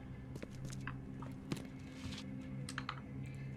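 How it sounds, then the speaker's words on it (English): Typewriter keys clatter in The Sinking City video game, a run of sharp irregular taps with a few louder strikes, set over a low droning ambient background. "We got a typewriter."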